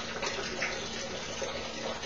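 Water discharging from an orifice in a tank and splashing back into a larger tank, a steady broadband rush and spatter heard on its own.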